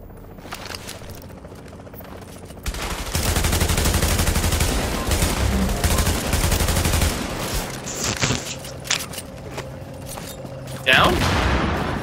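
Gunfire and grenade blasts in a shooter video game: sparse shots at first, then dense sustained bursts of automatic fire and booms, with players talking over the action.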